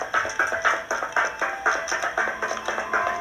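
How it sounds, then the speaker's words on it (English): Force field sound from a video game, set in a power plant area: a regular pulsing loop of short bright bursts, roughly three per second, steady and moderately quiet with no voices. "That is a noise of a force field that needs to be disabled."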